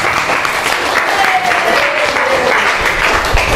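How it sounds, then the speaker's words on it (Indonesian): A classroom of students at a junior high school applauds together, a steady, dense patter of hands clapping at close range that holds evenly throughout with a faint voice rising over it. "Tepuk tangan untuk kalian semuanya"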